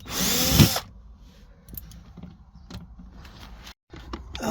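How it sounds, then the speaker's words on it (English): A big drill driver whirs loudly for under a second during campervan fridge installation work, followed by quieter clicks and faint handling noises. "Dad's actually using the big drill driver"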